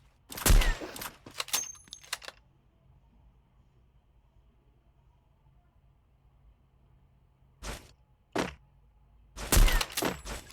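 Video game grenade blast and gunfire: a burst of loud cracking shots with a rumbling impact, then a long quiet stretch before more sharp, close bursts of fire near the end.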